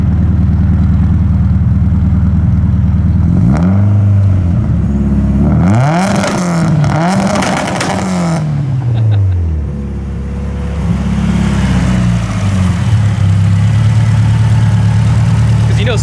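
A 2JZ-swapped Subaru STI making 850 horsepower on 42 psi of boost idles loudly and close, then blips through several sharp revs that rise and fall before settling back to a steady, rumbling idle.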